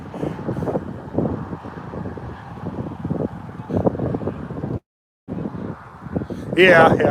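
Wind gusting over the Deschutes River while steelhead fishing, a steady low rumbling roar buffeting the microphone, mixed with talking voices throughout and a brief dropout near the end.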